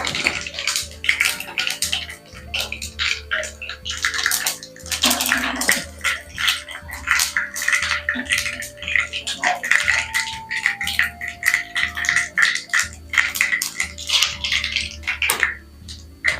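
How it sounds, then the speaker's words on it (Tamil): Mustard, cumin and fennel seeds crackle and spit in hot oil in a kadai while cooking a drumstick gravy, a dense continuous patter of small pops with metallic rattling throughout. "கடுகு சீரகம் நல்லா பொரிஞ்சிடுச்சு"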